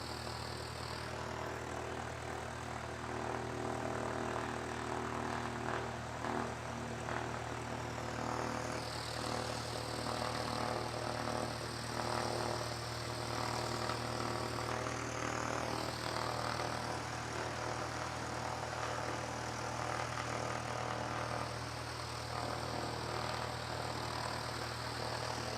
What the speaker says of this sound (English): Just a pity that the prop noise is sort of drowning it out a little bit